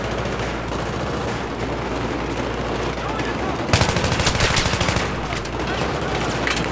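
Sustained automatic gunfire in Battlefield 3, rapid loud bursts of shots with a dense rattling burst standing out partway through amid ongoing battle noise and a voice talking.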